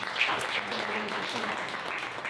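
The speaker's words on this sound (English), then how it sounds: "big applause for our speaker today" An audience applauds to welcome a speaker onto the stage, a dense, continuous patter of clapping at moderate volume, with faint voices mixed in underneath.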